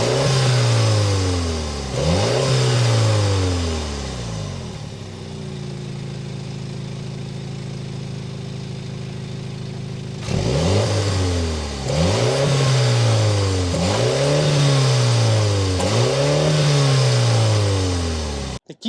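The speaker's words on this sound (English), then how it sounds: "so you can hear that exhaust note." A 2025 Mini JCW two-door hardtop is revved repeatedly, with sharp, loud exhaust blips rising and falling around a quieter steady idle in the middle, all close to the car.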